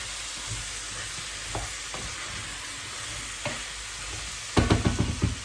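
Meat stew with added potatoes sizzles steadily in a frying pot while a spoon scrapes and stirs it in scattered strokes, ending in a louder burst of clattering stirs near the end.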